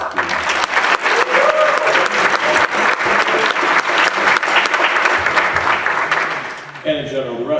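Sustained audience applause at a Belleville High School jazz band winter concert, a dense, steady clatter of many hands that fades near the end as a voice begins talking.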